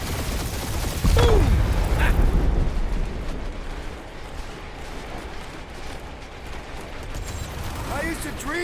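Gunfire and explosions in the video game Marvel's Guardians of the Galaxy, a heavy blast followed by sustained rumbling battle noise with scattered bursts, loud and close, with voices speaking over it.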